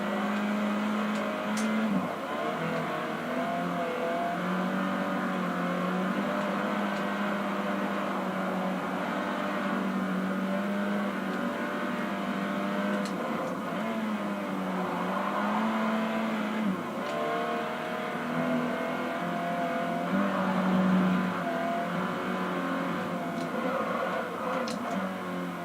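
Race car engine in the Forza Horizon 4 racing game on a circuit, a steady loud drone with shifting revs and occasional tire noise running throughout, no talk.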